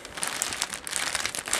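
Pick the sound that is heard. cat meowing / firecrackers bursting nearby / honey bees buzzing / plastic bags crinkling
plastic bags crinkling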